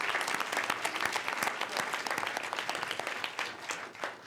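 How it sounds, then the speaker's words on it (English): Audience applause at an award ceremony for a sanctuary city honoring community leaders, a dense, sustained wash of many hands clapping steadily throughout with no talk over it. "Can we have a round of applause for Phil?"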